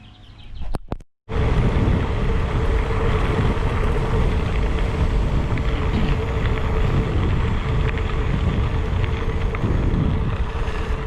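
Steady wind rush and tire rumble from a gravel bike ride on WTB Nano 40C tires, on a 2020 Trek Checkpoint AL3, continuous and loud after a brief handling bump at the start.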